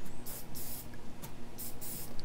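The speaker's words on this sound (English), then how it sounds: "Just some short bursts of the spray paint." Dark forest green 3D camo spray paint hisses from an aerosol can in several short, sharp bursts, close and fairly quiet with brief pauses between each spray.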